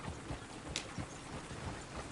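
Horse hooves clip-clop in a video game, a faint, fairly even series of soft hoof beats on the ground with a quiet background and no talk.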